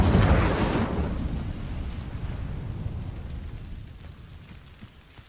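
An Incendio fire spell cast in Hogwarts Legacy bursts out with a sharp, loud whoosh, then fades into a long, rumbling, crackling tail that slowly dies away.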